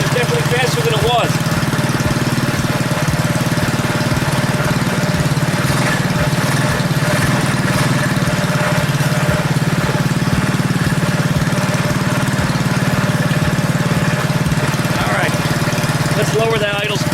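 Predator 212cc engine on a modified KT196 go-kart, ignition timing advanced, idling steadily at close range with a constant mid-pitched chugging rumble and faint vibration throughout.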